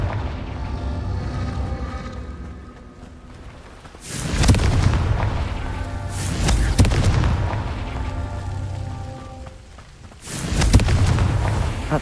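Blasting curse spell in the video game Hogwarts Legacy: loud, deep booming explosions burst out several times, each with a rumbling, crackling tail that fades before the next blast.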